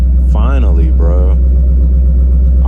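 A car engine idles with a deep, steady low rumble, close and loud, while someone talks briefly over it.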